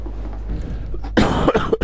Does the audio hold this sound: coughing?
yes